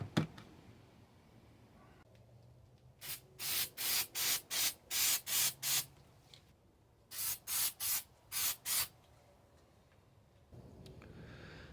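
An aerosol can of galvanizing compound hisses in a series of short, sharp spray bursts, two quick runs of bursts separated by a brief pause, close up.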